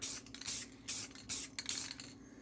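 Rust-Oleum sealant sprays onto a plastic cup in several short hissing bursts, about five quick passes back and forth, close and fairly soft.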